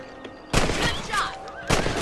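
Rifle shots from the Red Dead Redemption video game on Xbox 360: two sharp, loud cracks about a second apart, the first followed by a ringing tail, with faint background game sounds between.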